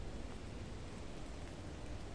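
Rain falls steadily in the video game Lethal Company, a dense, even hiss that holds at the same level throughout with no gaps and no voices.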